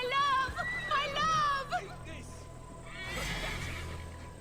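Horse in Assassin's Creed Valhalla gives a loud, close whinny followed by a rumble of hoofbeats, with faint voices and background game noise.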